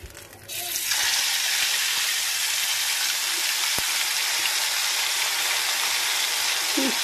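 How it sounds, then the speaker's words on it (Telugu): Fish dropped into hot oil in a pan on a home stove gives a loud, steady broadband sizzle that bursts on after a quieter start and holds continuously up close, with faint crackles. "ఇప్పుడు ఫిష్ వేస్తున్నాను."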